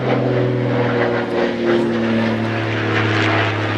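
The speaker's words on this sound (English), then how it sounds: "There's a plane coming over us." A propeller airplane passes overhead with a steady, loud droning hum that holds evenly throughout, with no voices.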